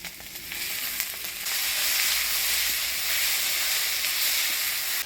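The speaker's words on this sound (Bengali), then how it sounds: "এবার সিদ্ধ করে রাখা কচুরলতিটা দিয়ে দেবো।" Boiled taro stolons hit hot oil in a pan with fried onion, chilli and crushed garlic, and the sizzle swells into a loud, steady frying hiss close by.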